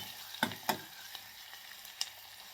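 Chopped onion fries in a pan for a pea and potato curry, a soft, steady sizzle under a few sharp scraping strokes of a spatula, quiet and close.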